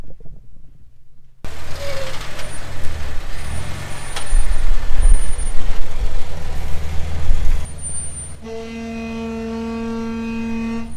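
A big truck fitted with Kodiak brakes rumbles and slows, its heavy low engine noise and brake hiss rising and falling up close, then giving way to a steady high whine near the end.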